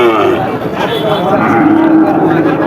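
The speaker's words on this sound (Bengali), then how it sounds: "আপনাদেরকে দেখাচ্ছি খামার উপযোগী ষাড় গরুগুলো" A loud, drawn-out moo from a bull close by at a cattle market, over a busy background of murmuring voices.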